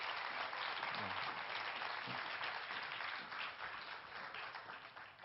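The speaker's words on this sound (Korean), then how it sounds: "박수로 맞이해 주세요." Steady, sustained audience applause fills a conference hall as a singer is welcomed to the stage for a talk concert, a dense wash of clapping that stays even throughout.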